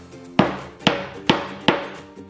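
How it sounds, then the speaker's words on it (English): A hammer taps a metal snap on a leather key chain, four sharp, evenly spaced strikes close to the microphone, each with a brief ringing decay, then a fainter fifth knock. "you're gonna take your hammer and give it one good tap"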